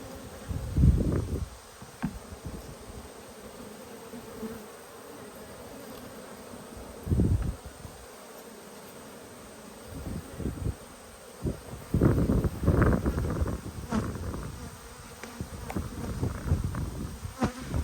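A dense buzz of many honeybees hums around close by at an open hive, swelling and fading as insects pass near, with occasional louder surges.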